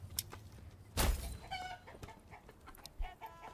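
Chickens cluck in a Manor Lords farmyard, a scatter of short clucks and squawks at moderate distance with one louder burst and faint ambient noise between, no talking.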